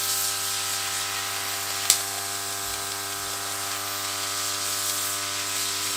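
An ultrasonic hydrodermabrasion skin machine spraying a super fine mist, a steady high hiss with a constant electronic hum beneath and one brief click, close and unbroken.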